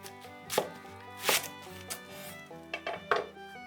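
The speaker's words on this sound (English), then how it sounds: "Also cut in half 1 eggplant, 1/4 of a cabbage." A knife chops through eggplant and a quarter cabbage on a board, giving several sharp, separate thuds with brief gaps, close and clear against a faint background of music.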